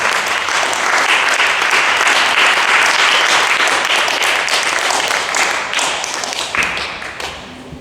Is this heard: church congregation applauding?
yes